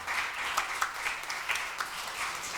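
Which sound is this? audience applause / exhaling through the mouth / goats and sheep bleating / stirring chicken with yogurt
audience applause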